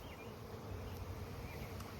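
A dense, steady buzz of many honey bees swarming close around a hive, continuous and droning with no voices.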